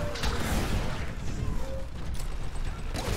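Gunfire and clanking mechanical weapon noise from a Titanfall campaign mission on Xbox One, a dense, steady rattle of shots that fills the whole moment with no pause.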